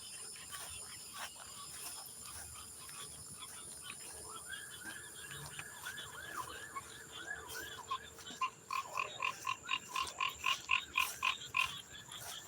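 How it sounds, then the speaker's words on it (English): Frogs croaking at night, faint at first and then building into a rapid, rhythmic pulsing chorus near the end over a low hum of other night sounds. "Uh-oh, I hear the frogs."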